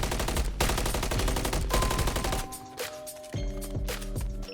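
Rapid gunfire from a first-person shooter, Call of Duty MW3, during target practice: dense automatic bursts for over two seconds, then sparser, spaced shots over a tonal game background, loud and close.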